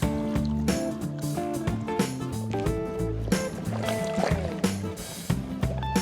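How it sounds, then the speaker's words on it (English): Gold pan swirled by hand with water and black sand, close splashing and sloshing in irregular surges. "Just roughly pan that back there."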